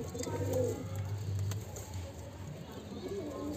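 Low, soft cooing of Madrasi pigeons repeats in a steady murmur, with faint voices and background noise.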